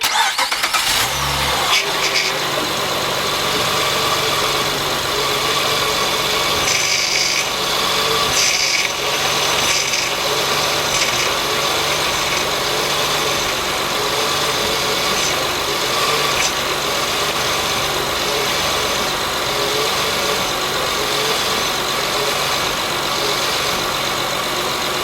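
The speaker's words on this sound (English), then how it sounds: "There will be obviously some noise because the air entered the system, but I will keep turning the wheels to the right and to the left" A car's power steering, with air in the system, makes a continuous loud mechanical whine and hum while the wheels are turned side to side, starting with a brief clunk and then holding steady without speech.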